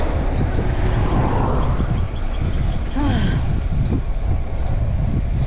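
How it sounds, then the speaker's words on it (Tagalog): Strong wind buffets the microphone in loud, rough gusts during a bicycle climb on the Mabitac route, with faint voices and passing vehicle noise underneath. "Grabe hangin."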